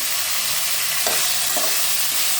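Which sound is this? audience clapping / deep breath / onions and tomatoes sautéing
onions and tomatoes sautéing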